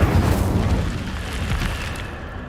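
A fiery Incendio blast from a spell in Hogwarts Legacy, a loud broadband whoosh and roar that bursts at the start and keeps crackling steadily for a few seconds before easing slightly.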